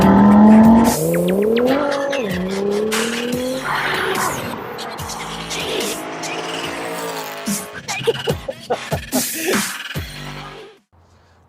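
A Stage 2 tuned VW Golf R Mk7 with a DSG gearbox accelerates hard. Its engine note climbs loudly through quick gear changes, then gives way to tire noise and a series of sharp crackles and pops before fading out.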